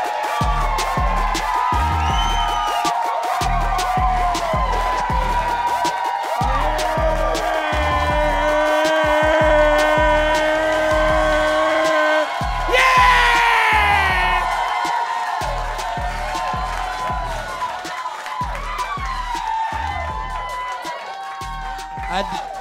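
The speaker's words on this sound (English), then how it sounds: "I deserve all that applause" Audience at a stand-up comedy show cheers, whoops and shouts over pulsing walk-on music, a loud, continuous roar that swells midway and then tapers slightly.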